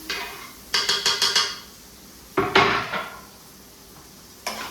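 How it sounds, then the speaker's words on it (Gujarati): Tomato and chilli drop into a cooking pan with onions, bringing a quick run of sharp metallic taps, then a louder clattering scrape, and one last knock against the pan. "હવે હું નાખીશ ટમેટું એન્ડ મરચું"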